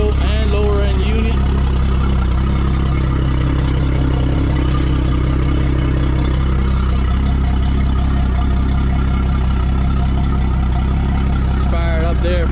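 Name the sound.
Yamaha F300 outboard engine running after service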